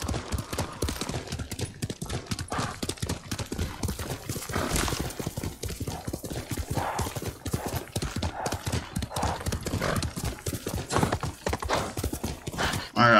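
Rapid, steady hoofbeats of a galloping horse in the video game Ghost of Tsushima thud on and on, loud and close, with a short whinny-like burst near the end.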